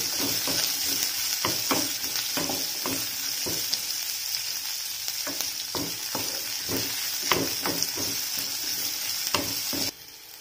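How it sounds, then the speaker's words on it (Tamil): Small onions frying in hot oil give a steady, bright sizzle, broken by regular scraping strokes of a stirring spoon, close and fairly loud with no voices, before the sizzle drops away at the end. "இப்போ எண்ணெயில நல்லா சின்ன வெங்காயம் வதங்கி வரட்டும்."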